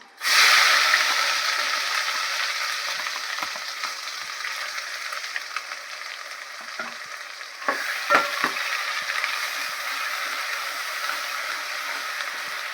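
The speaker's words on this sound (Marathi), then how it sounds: "आता लसूण लाल झाला का त्याच्यामध्ये आपण वाटण टाकूयात कांदा खोबऱ्याचं" A ground onion and dry coconut masala paste is dropped into hot oil with browned garlic and stirred, setting off a loud, close frying hiss that stays steady, with a few scraping clicks and a fresh surge partway through.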